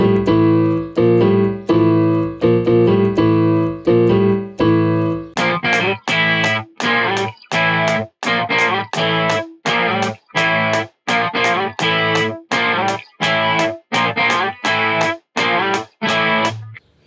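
A distorted electric guitar plays a four-beat riff, sustained notes at first, then a steady run of loud, punchy staccato strums repeated in a tight rhythm, alone and close.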